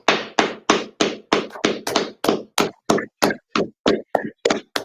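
A group of people clap their hands in a steady, rhythmic beat, about sixteen sharp, evenly spaced claps ringing out loud and close with no talking over them.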